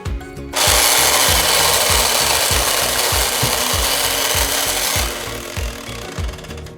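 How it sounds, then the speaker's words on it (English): A table saw screams through wood, a loud sustained whine that eases off near the end while the motor keeps running underneath. "And for this one, we'll need the table saw."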